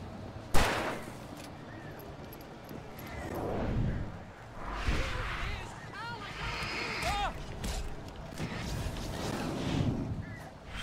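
Gunshots from Alan Wake Remastered: one sharp, loud crack opens, followed by scattered combat noise and rumbling effects, with a voice talking over the action.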